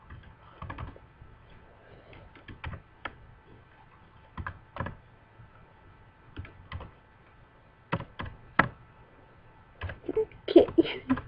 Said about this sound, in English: Can't even type it.